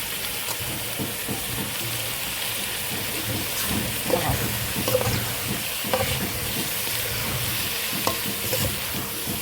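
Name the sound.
basmati rice stir-fried with onion in ghee and oil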